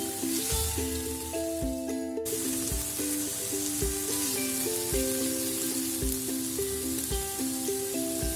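Marinated paneer pieces fry in a pan over medium flame, giving a steady, close sizzle that runs unbroken throughout, with a brief scrape or stir partway through.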